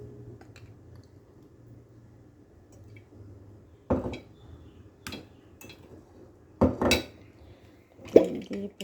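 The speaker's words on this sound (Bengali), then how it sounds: "তো চলো এবার প্রেশার কুকারটা আটকিয়ে প্রেশার কুকারটা বসিয়ে দিই" A pressure cooker is closed and set on the stove: after a quiet stretch come several close metallic clanks and thuds of the lid and pot, spaced irregularly, with no speech.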